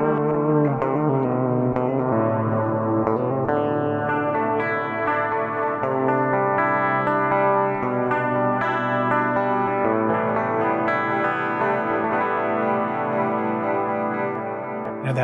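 Clean ambient electric guitar played through Guitar Rig 6 amp and effects software, sustained chords and melodic lines washed in lush chorus, echo and long trailing reverb, steady and full throughout with no talking.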